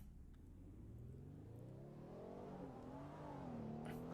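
A Roblox game vehicle's engine revs up steadily with a rising whine, fairly quiet and continuous.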